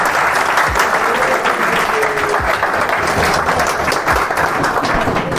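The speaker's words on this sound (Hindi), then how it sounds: "तो इनके लिए एक बार बहुत जोरदार तरीके से तालियां" Vigorous applause from a school audience at a debate and speech event, a loud, dense and steady roar of clapping with a few low thumps underneath.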